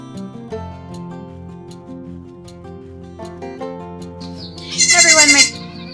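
Nigerian Dwarf dairy goats bleat, with one loud, sharp, wavering cry near the end over softer background tones.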